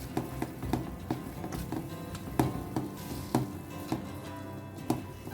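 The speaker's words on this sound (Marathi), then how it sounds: "आतां हें आनी आमकां एक 15-20 मिनटांनी बरें हें मसालो कूक करून घेवंक जाय." Goan prawn balchao masala with sugar cooking in a pan, a low sizzle broken by a regular series of sharp stirring and scraping knocks, close and fairly quiet, with no talking.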